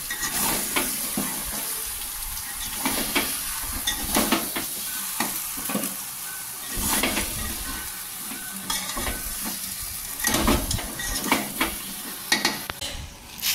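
Mutton pieces with fried jackfruit and potatoes are stirred and sizzling in a hot pan, with a steady frying hiss, repeated scraping strokes of a spatula close by, and no talking.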